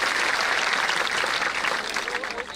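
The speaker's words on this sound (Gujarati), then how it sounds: "એમને જોરદાર તાળીઓના ગડગડાટથી બતાવો પહેલા" A large audience of Patidar women at a gathering in Patan applauds, with dense, continuous clapping that holds steady and then tapers slightly toward the end.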